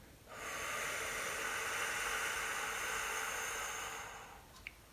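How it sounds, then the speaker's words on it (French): A slow, steady exhale through pursed lips to empty the lungs during breathing retraining, one long hissing breath of about four seconds, close and even, ending with a tiny click. "je vais essayer de souffler relativement lentement pour vider tout l'air de mes poumons"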